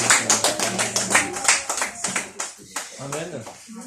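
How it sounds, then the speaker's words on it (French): A church congregation claps rhythmically in an even beat over the first half. The clapping then thins into scattered claps under a voice that speaks over it. The sound is moderately loud and close. "Applaudissez le Seigneur."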